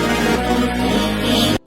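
Reversed harp sample in FL Studio, a dense sustained wash of swelling tones with a steady loud level that cuts off abruptly near the end.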